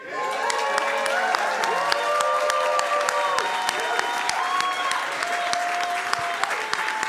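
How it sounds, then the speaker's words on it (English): An audience at an evening benefit artists' show bursts into applause with cheers and whoops rising over it, sharp individual claps standing out amid the crowd noise and a few voices calling out. "can we give a giant round of applause to Sharif Simmons?"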